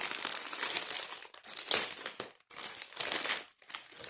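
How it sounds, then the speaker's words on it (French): Plastic packaging from a Temu sticker order being unwrapped, with loud, close crinkling and crushing in several bursts separated by brief pauses. "On va déballer le petit paquet."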